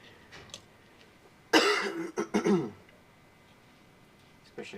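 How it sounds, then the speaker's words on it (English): A person coughs in a short burst of several harsh coughs close to the microphone, preceded and followed by quiet room tone. "Especially with me coughing the whole time."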